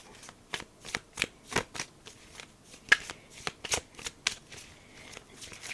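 Tarot cards are shuffled in a quick series of crisp riffling bursts, close by, roughly a dozen sharp flutters in an uneven rhythm.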